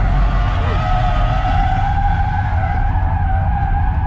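Tesla Model Y Performance drifting on a race track, its tires skidding in a loud, sustained screech with shifting squealing tones that holds for about four seconds.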